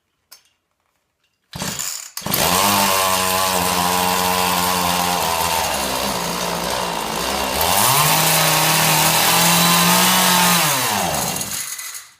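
A chainsaw engine mounted on a homemade minibike sputters to life after a brief silence, then runs loud and steady with a buzzing two-stroke tone, revving higher for a few seconds before settling and cutting off.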